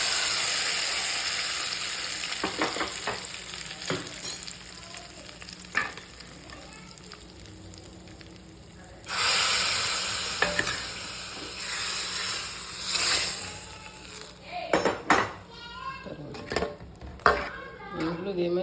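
A hot tempering of onion, chilli and mustard seeds poured into cooked spinach, bursting into loud hissing sizzles that rise and fade, with scattered pan clatter and stirring amid a quieter background.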